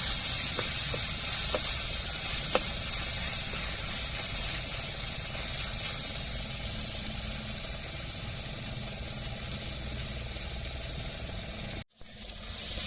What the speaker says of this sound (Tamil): தக்காளியெல்லாம் நல்லா வதங்கிட்டு இஞ்சி பூண்டு பச்சை வாடை மாறத்துக்கு நல்லா வதக்கி விட்டுக்கிடுவோம்.